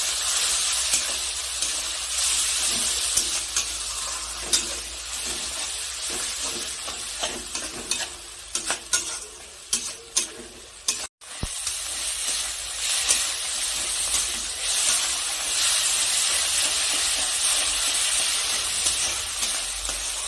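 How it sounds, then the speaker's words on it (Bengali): Ground spice paste with salt and turmeric sizzles in hot oil for a cauliflower and koi fish dish, with a steady frying hiss broken by scraping stir strokes up close and no talking. "এখন সব মশলা একসাথে নেড়ে চেড়ে খুব ভালো করে কষে নেব।"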